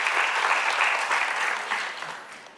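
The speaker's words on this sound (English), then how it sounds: "Let's give her a round of applause." Church congregation applauding steadily for a couple of seconds, a dense, even wash of clapping that fades slightly toward the end.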